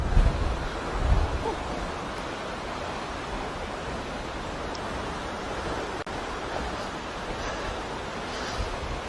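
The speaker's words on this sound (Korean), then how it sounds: "파도가 생각보다 거칠어졌어요." Rough ocean waves roll in along the rocky Jogasaki coast on Japan's Izu Peninsula in Shizuoka, a steady wash of surf close by with wind buffeting the microphone and no voices.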